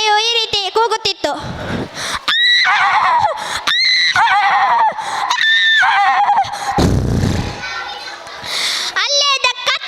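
A child mimics a horse's neigh at a school day event, giving several high, quavering whinnies in quick bursts between pauses, loud and close, with brief spoken passages and crowd noise around them.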